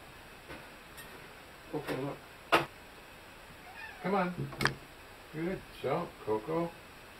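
A smart trick cat that jumps onto a person's shoulder meows several times in short, close, clear calls spread across the moment, with a person talking softly in between.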